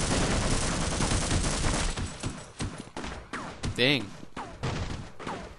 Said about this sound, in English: Up there is one of those trench thingies. And it's shooting at us.